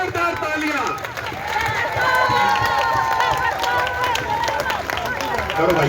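Nurses' association members gathered at a rally in Rohtak break into loud, sustained applause and cheering from a large crowd, with hubbub and voices mixed in throughout.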